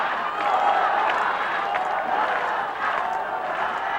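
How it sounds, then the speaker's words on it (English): A live FMW King of the Deathmatch wrestling crowd from 1997 chanting "Toyota" in a steady rhythmic roar, a dense, loud mass of voices filling the arena throughout. "Sounds like they're yelling Toyota"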